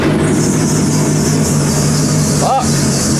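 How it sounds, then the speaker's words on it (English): Car engine, cold and not run for a while, held at a steady raised idle around 2500 RPM, a constant loud drone with a high whine, while a voice speaks briefly near the end. "please bring and hold engine to 2500"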